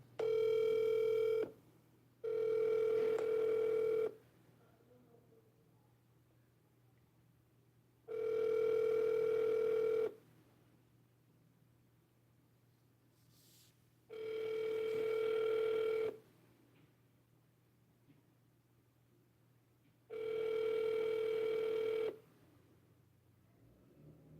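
An outgoing phone call rings back in the earpiece as five evenly spaced, long ring tones separated by silent gaps, clear and fairly close with no talking between them.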